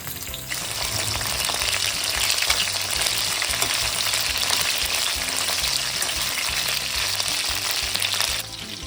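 Steady, loud sizzling of food frying in hot oil, a dense crackle that starts abruptly and holds evenly throughout, with no talking.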